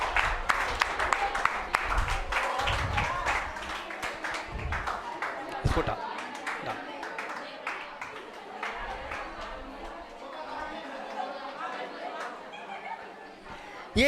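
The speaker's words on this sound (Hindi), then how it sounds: "आप लोगों की ताली कम पड़ जाती है, पर तुमसे ज़्यादा तो अकेली मेरी ताली उठ रही है" Scattered clapping from an audience at an award ceremony honouring a test topper, sharp uneven claps mixed with crowd chatter and some laughter, gradually thinning as voices carry on nearby.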